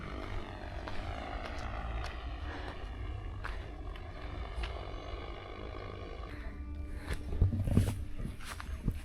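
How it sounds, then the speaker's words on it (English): Large agricultural drone flying overhead near a sunflower field, a continuous buzzing propeller drone with a wavering pitch, fairly faint and distant, swelling slightly louder near the end with no talking. "there is the agriculture drone, a big drone"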